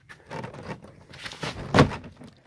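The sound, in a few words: car interior door panel being pulled off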